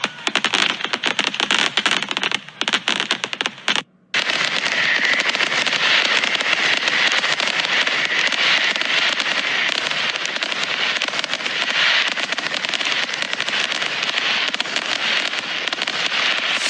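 Animated New Year's fireworks crackle and burst in a dense, loud, continuous barrage, with a brief gap near the start before the crackling fills in steadily and never lets up.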